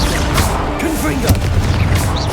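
A Confringo fire spell explodes in the Hogwarts Legacy video game, a loud booming blast with a sharp crack near the middle, set over dense game noise and sounds of combat.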